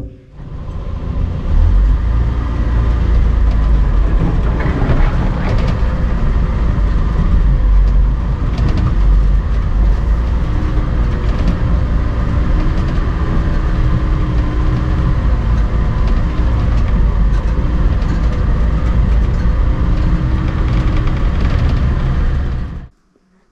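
An all-terrain vehicle drives while dragging steel rails, its engine a loud, steady, low drone with rumbling and clanking, running unbroken for over twenty seconds with no talk.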